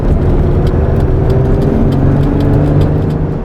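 Ferrari Testarossa engine being wound out from idle, a loud, steady, close-up roar held for a few seconds without talking.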